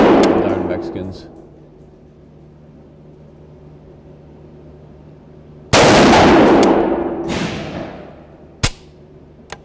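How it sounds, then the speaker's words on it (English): A PTR Industries .308 rifle fires at an outdoor range: one loud, sharp report at the start that decays into a ringing tail, then a second blast a few seconds later, followed by a short, sharp crack near the end. "this gun shoots pretty nice for 308"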